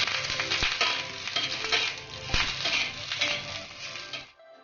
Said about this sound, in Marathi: तेल टाकून भाजून घेऊया।